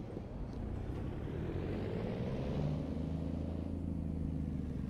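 The heavy engine of an old Autocar DC truck in American Truck Simulator, hauling scrap metal, drones steadily at low pitch, a continuous rumbling motor with a slight rise in revs midway, close and fairly loud throughout.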